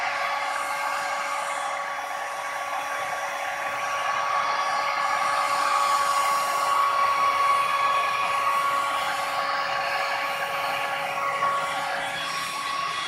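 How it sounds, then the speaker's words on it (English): A heat gun warming resin runs continuously and loudly, a steady blowing whir that swells slightly midway, with no voices. "Just heating up the resin, just so I can spread it around a little bit."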